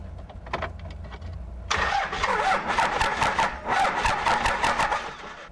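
Cummins diesel swapped into a Jeep Wagoneer in a shop, cranking with rapid rhythmic starter chugs that suddenly burst louder and continue in a choppy pulsing rattle, close and fairly loud.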